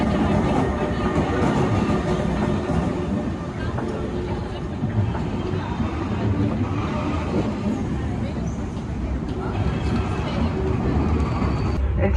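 Inside an intercity train travelling from Amsterdam to Antwerp, a steady broadband rumble and rattle of the moving carriage fills the space, with faint passenger chatter under it.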